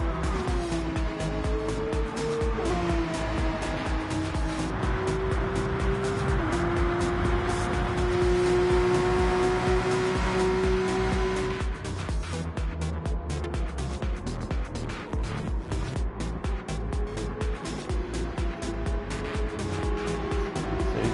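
Porsche race cars running nose to tail through the S-bends at Interlagos in a racing video game, their engines whining and shifting pitch as they pass, with occasional tire squeal.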